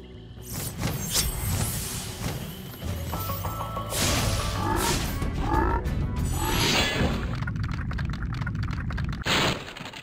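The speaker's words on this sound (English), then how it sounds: "Be on the lookout for attack frogs" Attack frogs croak in a swamp level of the Spyro Reignited Trilogy video game, amid a dense, loud mix of thuds, splashes and crashing game effects with a continuous background score.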